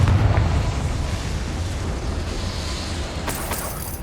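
A Confringo fire spell in Hogwarts Legacy goes off inside a goblin mine. It gives a heavy low rumbling blast that stays loud and roars steadily, with a brighter crackle burst near the end.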